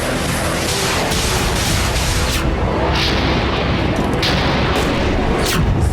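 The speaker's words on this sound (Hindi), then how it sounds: "जिन धमाकों से धरती फट पड़ी" Heavy booms and blasts in a war zone roll together into a loud, continuous rumble, with dense low-end thuds and a few sharper cracks and no clear pauses.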